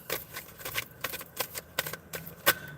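Soft, close riffling and flicking of tarot cards being shuffled, in short irregular bursts with a sharper snap near the end, quiet overall.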